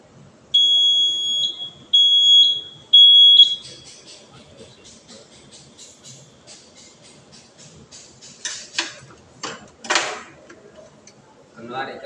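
A Novec 5 fire suppression system's alarm sounds as three loud, shrill electronic beeps, evenly spaced about a second apart, followed by quieter clicks and scattered knocks.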